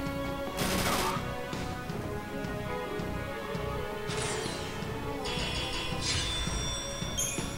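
Grenade blast and battle effects in Final Fantasy XIII: sharp broadband bursts near the start and again later over a sustained layer of game music and rumble, dense and fairly loud throughout.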